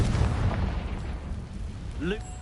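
A Confringo fire-blast spell in a PS4 video game bursts with a loud, low, rumbling roar that slowly fades over about two seconds, followed by a short rising tonal whoosh.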